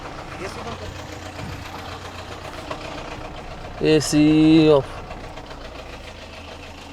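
A car engine runs at idle with altered, uneven firing, a steady low rumble throughout. Someone speaks briefly, and a short tonal beep sounds midway.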